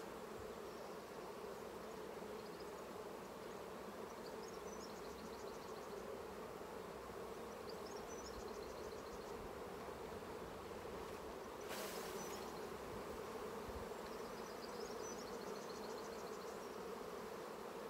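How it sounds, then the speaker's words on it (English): A steady, close swarm of honeybees buzzes over lifted hive frames during an inspection, an even low drone broken by a few faint chirps and one short rustle. "Lots of bees on these frames."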